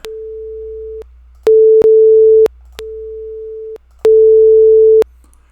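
A steady pure test tone alternates between a quieter level, at one tenth amplitude, and a louder level in one-second bursts separated by short gaps, clean and electronic.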